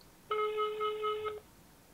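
A single telephone ringback tone on an outgoing call plays for about one second, a steady clear electronic ring standing alone against quiet background.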